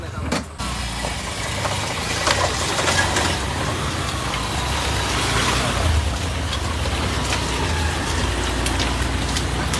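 Vehicle engines start and run at a stop in Velas, Mandangad, Ratnagiri, a close, continuous rumble with rain-like hiss around it and faint voices.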